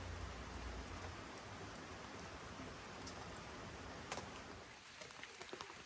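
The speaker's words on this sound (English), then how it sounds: "the sound of the rain, the river in the background" Rain falls steadily at a campsite at night with a river running in the background, a soft faint hiss with scattered drops toward the end.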